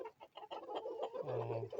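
A local rooster clucks repeatedly nearby, then lets out a longer drawn-out call near the end.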